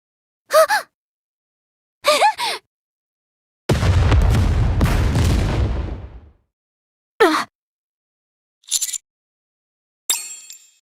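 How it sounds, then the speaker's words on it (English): A booby trap blows up in the video game Goddess of Victory: Nikke: one loud, broad, rumbling blast of about two and a half seconds that decays away, set among several short gasping voice grunts before and after it. "I managed to dodge the explosion."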